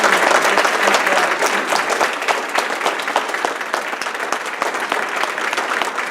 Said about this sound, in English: Let's give a round of applause for our 5 teachers.